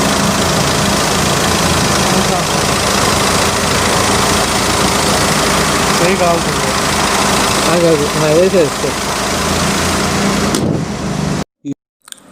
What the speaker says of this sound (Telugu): ఇంజన్ సౌండ్ ఎలా ఉందో ఇప్పుడు విందాం.